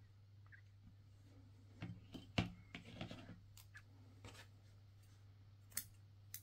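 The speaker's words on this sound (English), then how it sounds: "Probably shouldn't use scissors for this." Scissors snipping yarn while finishing a crocheted baby clownfish, a few short close crisp cuts clustered near the middle, alone over a low steady hum.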